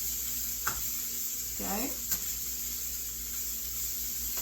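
Beef stir-fry sizzling steadily in a pan while it is stirred, a constant close hiss with a brief scrape of the utensil. A voice says a single short word.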